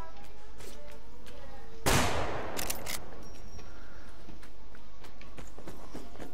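A sharp, loud burst of gunfire from the video game Survarium cracks out midway, followed by a few quicker shots and scattered faint pops over a quiet background.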